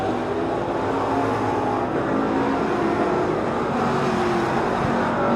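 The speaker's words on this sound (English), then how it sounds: "Zach Lindgren up front and accelerating away from Cheney." Hobby stock race cars run a dirt track main event at a fall nationals night, a steady dense engine roar that swells slightly as the pack accelerates, loud and continuous throughout.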